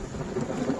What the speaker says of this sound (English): Rain is not showing mercy upon us.